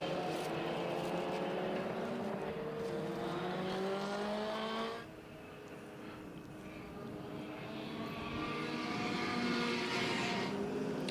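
Historic racing cars circle the Sandown track behind a safety car, a pack of engines droning and shifting pitch as they pass at a distance, one group fading before the next approaches.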